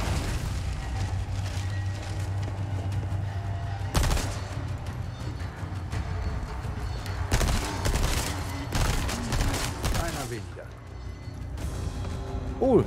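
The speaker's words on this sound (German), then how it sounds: "Man kann mit der Kanone auf Medaillen schießen." Cannon blasts and booming impacts in the video game Resident Evil 4 Remake, played with a medieval-themed Berserker mod, come as loud repeated shots and crashes over a chaotic game soundtrack, with a voice talking throughout.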